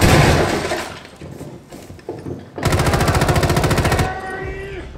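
Rapid automatic gunfire from Rainbow Six Siege on the Villa map, loud and dense, with a sustained burst of evenly spaced shots after scattered earlier fire and game noise, with faint voices in the background.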